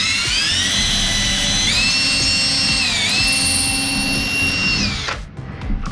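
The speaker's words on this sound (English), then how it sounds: "our first order of business is to drill the 2 holes we've identified" A power drill bores holes for handrail brackets, whining steadily at high pitch for about five seconds with slight shifts in speed before winding down at the end.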